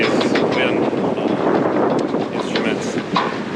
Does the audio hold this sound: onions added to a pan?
no